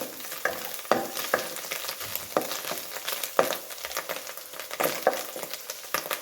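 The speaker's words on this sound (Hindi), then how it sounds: "और इसको भी हल्का सा इसमें फ्राई कर लूँगी।" Mushrooms frying lightly in a pan for a soup, with a soft, close sizzle and sharp spatula scrapes at irregular intervals, and nobody talking.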